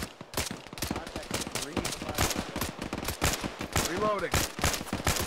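Dense, rapid gunfire in the ArmA 3 military video game crackles as repeated sharp bursts and shots, near and loud, while a voice speaks briefly over the firing.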